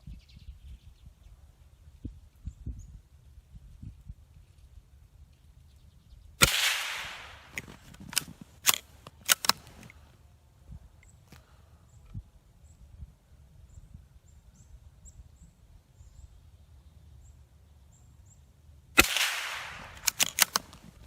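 A .22 rifle fired from a shooting mat outdoors in the cold: a sharp, close crack, followed by a few fainter clicks and knocks, then a second crack near the end, with quiet ambience between.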